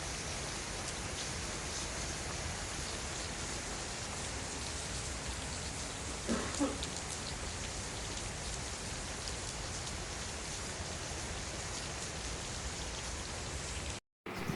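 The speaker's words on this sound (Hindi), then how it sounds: "मैं बारिश की साउंड सुनाना चाहता हूँ।" Steady rain pours down outdoors near a hut, a dense even hiss of drops on surfaces with one brief knock partway through, no voices.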